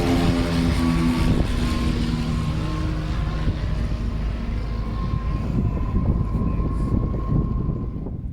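A sailboat's inboard engine runs steadily with a low droning hum and a faint tonal whine, loud and continuous throughout, easing slightly toward the end before being shut off.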